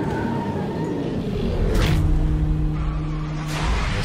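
A Lamborghini races in Need for Speed, its engine roaring steadily up close with a sustained rising whine and a brief tire squeal partway through.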